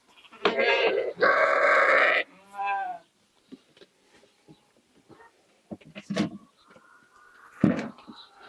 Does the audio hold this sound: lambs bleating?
yes